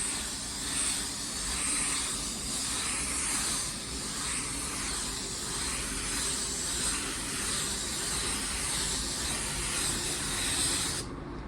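A spray gun lays down wet coats of car color paint, giving a steady, close, breathy hiss that swells slightly in slow passes and cuts off sharply at the end.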